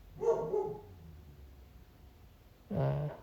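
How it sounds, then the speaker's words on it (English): A dog barks at home in two short bursts, a pair of close barks near the start and another single bark near the end, with quiet room tone between. "My dog is barking."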